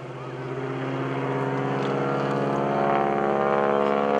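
A Stearman open-cockpit biplane's radial engine drones steadily through a barrel roll at the 2013 Greenwood Lake airshow, a loud, sustained buzzing roar that swells slightly as the aircraft passes near.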